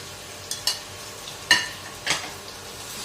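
Fried chicken pieces are stirred into spice masala in a pan: a few sharp scrapes and clinks of a utensil against the metal over a low sizzle, close by and without talk.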